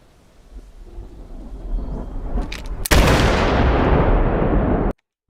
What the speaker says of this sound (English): this will go right up to the click of the dry fire